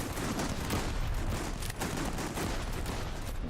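Pistol gunfire in a shooter video game, heard as dense, continuous rattling bursts of shots filling the whole stretch at steady loudness, with no clear gaps between them.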